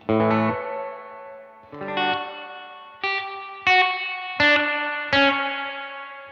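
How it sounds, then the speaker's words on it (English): Six plucked guitar chords ring out one after another, each trailing into a long, splashy spring reverb tail, from a UAFX Lion 68 or Dream 65 amp pedal. "still a spring reverb, but it's pretty long"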